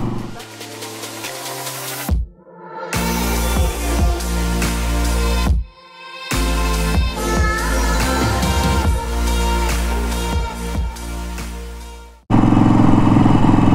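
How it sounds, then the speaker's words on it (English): A Harley-Davidson Sportster motorcycle engine rumbles loud and close while riding, with steady throttle stretches broken by brief gear-change drops, then a rougher, louder section at the end. "This might be the final ride on my Sportster."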